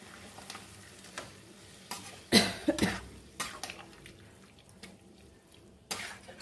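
Boiled water is poured into a cooking pot of young jackfruit curry, giving a short splashing, sizzling burst near the middle followed by softer stirring and bubbling sounds.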